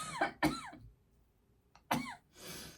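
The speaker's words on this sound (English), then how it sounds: "I need to stop coughing." Several short, harsh coughs close by, a pair at the start and another burst later, with quiet gaps between.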